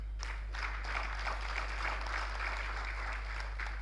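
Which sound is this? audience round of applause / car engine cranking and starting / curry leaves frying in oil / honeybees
audience round of applause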